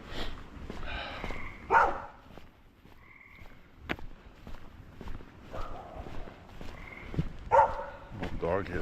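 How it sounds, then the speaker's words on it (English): A small dog barks several times in short bursts at a passer-by on a walk in Maine, heard with footsteps. "Little dog hears me walking by."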